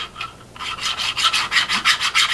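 Grease is worked back and forth across 3D-printed fractal vise parts, making a steady run of close, rhythmic rubbing strokes, about a dozen in quick succession, with no voices.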